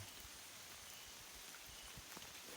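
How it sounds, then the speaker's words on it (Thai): Rain falls in a deep forest onto wet leaves as a faint, steady hiss with occasional soft drip taps. "ตอนนี้ก็ฝนตกด้วยนะทุกคน"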